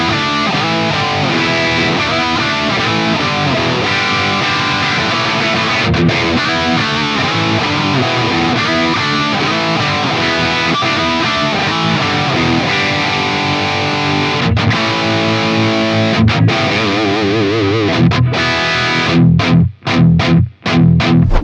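Distorted electric guitar through an ML BE amp sim plugin, dense and loud with a thick effects-laden tone, riffing continuously before a few choppy stops near the end.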